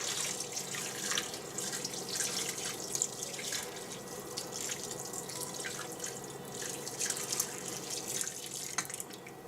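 Hot water running from a kitchen tap into a sink while cooking chicken and baked potatoes, a steady close splashing stream with small drips and clinks, no talking.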